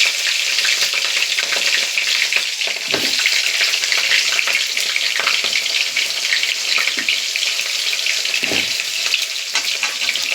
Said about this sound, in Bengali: এবার একে একে আলুগুলো ছেড়ে দেব।